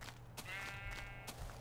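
Sheep bleating in the Minecraft video game, a wavering bleat and a shorter follow-up call over a steady low background hum, fairly quiet and with no speech.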